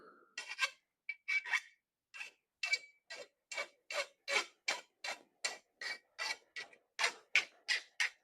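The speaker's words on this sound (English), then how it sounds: "File a nice flat edge" Metal file rasping across the cut end of a fuel line to flatten it, about eighteen short, even strokes in a steady rhythm, close up and alone.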